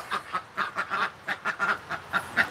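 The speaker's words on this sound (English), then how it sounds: "Got my little ducks." Backyard ducks quack in a quick, irregular series of about a dozen loud, nasal calls, close by and with no talk.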